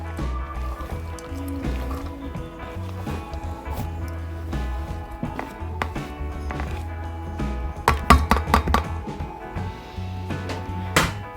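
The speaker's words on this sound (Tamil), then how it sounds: "எல்லாம் போட்டு நல்லா கலக்கி விட்டுக்குங்க" Gram flour bonda batter with onion, coriander leaves, cumin and fennel is stirred by hand, giving wet squishing and dripping sounds that grow busier near the end, with steady background music.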